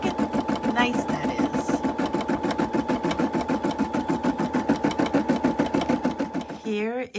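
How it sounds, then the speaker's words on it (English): An embroidery machine rapidly stitches decorations onto a table runner, a fast, regular mechanical pulsing that runs close and steady, with a voice talking over it and a brief pause in the stitching near the end. "I'm fascinated by the embroidery machine."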